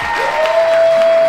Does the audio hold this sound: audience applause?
yes